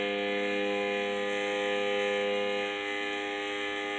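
A 3D-printed sensorless brushless DC motor running at full speed gives a steady, loud high-pitched whine with a buzzing vibration, easing slightly near the end, with no talking.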